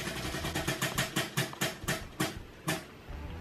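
A mystery wheel is spun and ticks past its pegs in a string of sharp clicks that start quick and gradually slow and spread out before stopping, close and fairly quiet, with no talking.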